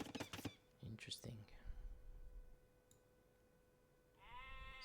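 Sheep bleat in the Age of Empires II game, a short wavering cry near the end following brief quiet speech and clicks, fairly soft against a low background.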